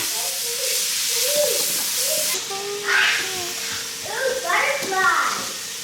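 Onions, celery, garlic and peppers sautéing in a pot for gumbo give a steady, soft sizzling hiss, heard close and continuous beneath a child's and an adult's voices.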